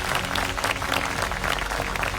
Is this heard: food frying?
no